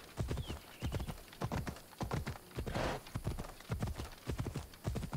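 Rhythmic clip-clop of a galloping horse in Assassin's Creed Odyssey runs steadily throughout, loud and close, with a brief whoosh midway and no talking.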